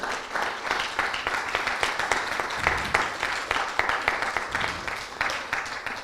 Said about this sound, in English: Please give a big applause to Rohitgi family for helping our temple.